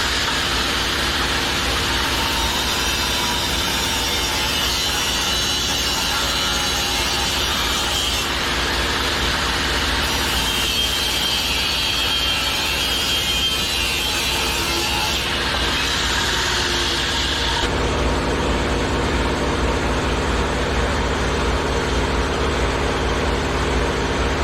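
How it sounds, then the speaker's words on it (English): An angle grinder cuts off a hand-forged steel spear, making a loud, continuous harsh whine and rasp that shifts in pitch and intensity as the cut progresses, with no voices. "I'm just going to cut it off with the grinder."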